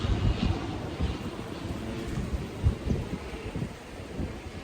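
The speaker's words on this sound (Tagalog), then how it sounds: "At medyo mahangin Kita nyo? Hangin siya." Wind gusts steadily against the microphone outdoors in Taiwan, a low rumbling roar that swells and dips throughout, with no voices.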